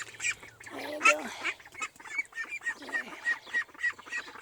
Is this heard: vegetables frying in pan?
no